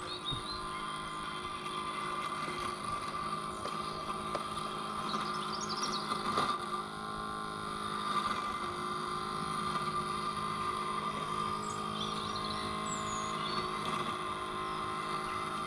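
A Bosch Indego S+ 350 robot lawn mower drives across a lawn with a steady, continuous motor hum, holding an even level throughout with faint outdoor background and no talking.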